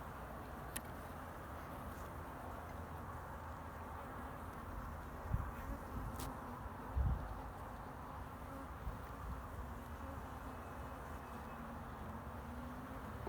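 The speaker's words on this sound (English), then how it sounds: "Look at this bee trying to get me." Honeybees buzz around an open beehive during an inspection, a constant drone of many bees with individual bees passing close by, plus occasional handling knocks and thumps.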